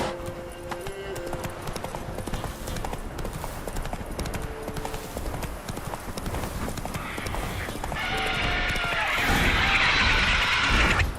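Roach, a horse in The Witcher 3 game, gallops with steady, loud clip-clop hoofbeats that run throughout, growing denser and brighter toward the end as more rushing noise joins in.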